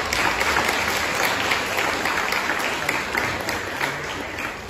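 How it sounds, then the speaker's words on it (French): Steady applause from a seated audience at a graduation and diploma ceremony, continuous and fairly full, easing slightly toward the end. "Je vous demande d'applaudir."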